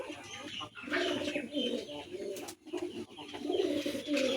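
Male pigeons on a farm that keeps Chinese ducks, local chickens and pigeons, giving repeated close throaty coos mixed with light chirps, filling the whole stretch without talk.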